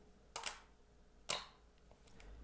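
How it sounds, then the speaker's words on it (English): A 35mm film camera shutter fires at a one-second speed: a sharp mechanical click opens the exposure and a second crisp click closes it about a second later, close and clear against quiet room tone. "So for example, this is the shutter speed of 1 second."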